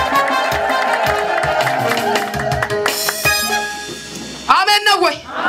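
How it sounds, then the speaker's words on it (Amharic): Church congregation cheering and clapping over amplified talk and music, building to a burst of warbling ululation and applause near the end. "እልልታ ጭብጨባ ለእግዚአብሔር ክብር ሰጥተን እንቀመጥ"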